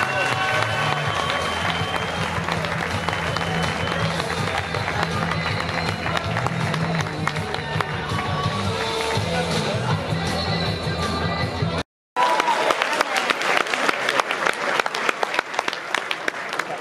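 A crowd applauds loudly and steadily at the Mr Odysseia 2022 bodybuilding competition after a Classic Physique category winner is announced. The dense clapping breaks off for a split second, then resumes just as strongly.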